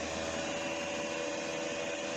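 A Tefal air fryer runs steadily with a constant fan whir and hum at moderate loudness, with no change across the short stretch.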